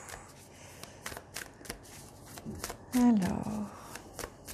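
Tarot cards being shuffled by hand during a daily reading, a run of quick papery riffles and taps at close range, with a voice speaking briefly over them.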